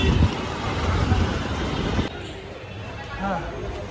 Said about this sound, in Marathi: जरा ट्रॅफिक आहे